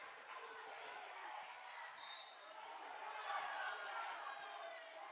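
Crowd murmur and shouting in a high school boys basketball gym during a game, a steady restless roar with scattered calls, heard distant and muffled throughout.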